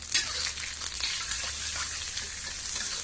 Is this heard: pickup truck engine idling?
no